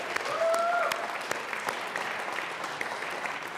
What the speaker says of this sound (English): Yes, we could all clap at that one.